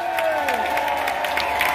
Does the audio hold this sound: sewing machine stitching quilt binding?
no